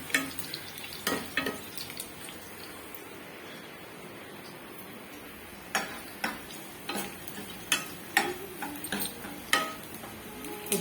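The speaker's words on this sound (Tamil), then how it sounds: "பூண்டு இன்னும் கொஞ்சம் வதங்கணும்." Garlic sautéing in oil in a pan for a Tamil garlic curry, a quiet steady sizzle broken by repeated stirring scrapes and ticks of a utensil against the pan.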